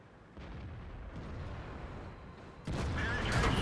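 An artillery shell striking a T-34 tank in World of Tanks, heard as a heavy low rumbling blast that builds and then jumps into a louder, sustained roar of impact and explosion.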